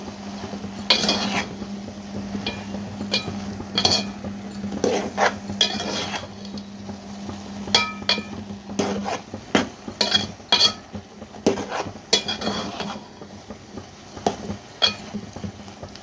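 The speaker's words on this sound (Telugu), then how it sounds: "బఠానీలు ఇవి కూడా వేసేసుకోవడమే ఒకసారి కలుపుకోవాలి మొత్తం" A spoon scrapes and clatters against a cooking pot as boiled green peas are stirred into a spicy curry, with irregular metallic knocks and clinks close by and faint sizzling underneath, no talking.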